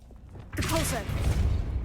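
A Depulso banishing spell strikes in Hogwarts Legacy, landing as a sudden loud burst followed by a rumbling, crackling impact that fades slowly, with a voice calling out over it.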